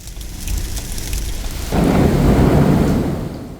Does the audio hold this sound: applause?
no